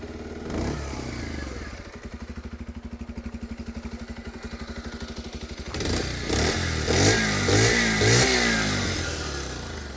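A 2026 Bajaj Pulsar 125 motorcycle idles with an even, rapid exhaust putter, then revs several times in rising and falling bursts, loud and close.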